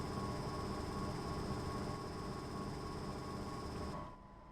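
Class 143 train in Train Sim World 2, Dresden suburban service: steady loud engine and rail rumble with a constant hum, continuing evenly before dropping away near the end.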